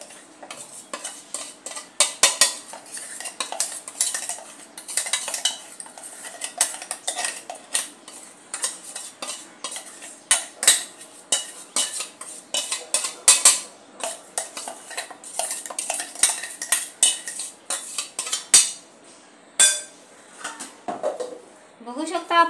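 A spoon scrapes and clinks against a metal pan and bowl while dry kachori masala is transferred, giving rapid, irregular close-up tapping and scraping.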